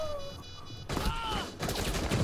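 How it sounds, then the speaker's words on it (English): Rapid gunfire bursts out in the tactical shooter game Rainbow Six Siege as shots go through a wall, a dense fusillade following a quieter opening. "Shoot through the wall!"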